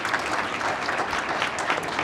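An audience claps together in a brief, dense, even round of applause at close range, steady throughout with no pauses.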